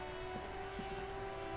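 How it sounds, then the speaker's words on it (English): Steady rain falls on a white and blue police motor carriage in the video game Disco Elysium, a soft, even patter heard alone with a faint constant hum beneath it. "Droplets of rain fall on the white on blue police livery of the motor carriage."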